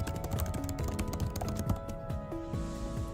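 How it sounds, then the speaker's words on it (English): Rapid, close clicking of keys on a computer keyboard as a message is typed, a steady patter of taps over a faint hum. "start typing our own message"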